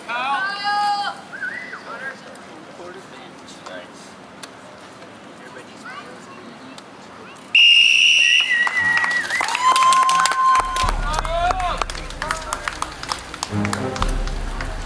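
Sharp, loud whistle blast starting a bike race at an outdoor bike fest, cutting in partway through after people talking, followed by crowd cheering and commotion.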